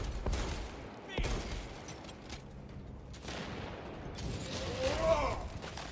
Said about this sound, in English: The bolt rifle is probably one of the best sounding.